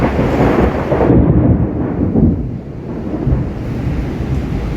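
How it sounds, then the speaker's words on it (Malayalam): Loud, deep rolling thunder rumbles continuously, close and heavy, with a low roar that swells and slowly eases without any voices. "ഇടിവെട്ടി ഇടിവെട്ടി തൊട്ടാ കറണ്ടും പോയി"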